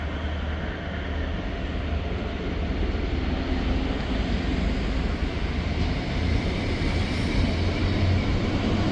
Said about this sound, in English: Departing out now is the delayed 1414 Scotrail service from Glasgow Queen Street to Aberdeen.